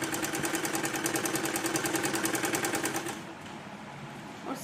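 A sewing machine runs a rapid, even stitch along a kurti's lining at the neckline, close to the embroidery, for about three seconds before stopping, leaving quieter background noise.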